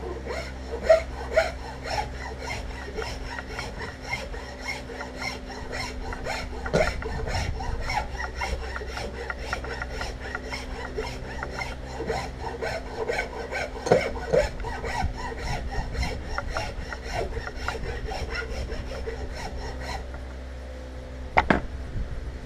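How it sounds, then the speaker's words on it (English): Knife blade being worked with a hand file: a long run of rapid, rhythmic rasping strokes, close and steady, with a low hum underneath and a brief clack near the end, no speech. "I've already got that side worked now with the file"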